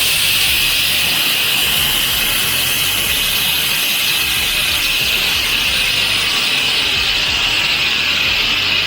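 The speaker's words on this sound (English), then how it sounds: "I'm gonna air these down with the monster valves" Air rushes out of off-road tires through Monster valves in a steady, loud, continuous hiss that holds without a break throughout, close by.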